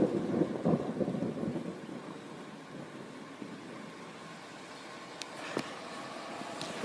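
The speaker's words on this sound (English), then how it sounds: "Stopped raining, but it's still thundering." Low thunder rolls and rumbles through a thunderstorm at a house after the rain has stopped, fairly distant and steady, with a couple of faint sharper crackles near the end.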